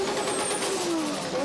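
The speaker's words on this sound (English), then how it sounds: "All the guys there now doing some burnouts, showing off." Drift cars doing burnouts at a night drift championship round in Oman, a loud continuous engine roar with a wavering pitch, with crowd and commentary noise mixed in.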